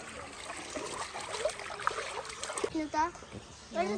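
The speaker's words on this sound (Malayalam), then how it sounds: "ഇതിനപ്പുറം ഒരു പുഴ ഉണ്ട് കാഴ്ച കൂനൂർ പുഴന്റെ ഭാഗം" River water flows near a canal with a continuous trickling, splashing rush in the background, while people, including a child, talk nearby.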